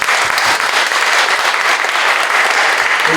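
A church congregation gives loud, sustained applause for three pastors at a revival prayer gathering, thick continuous clapping from a large crowd, close and even, without speech.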